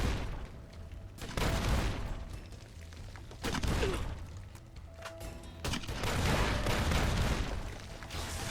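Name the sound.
gunfire from enemy in Fallout: New Vegas Lonesome Road video game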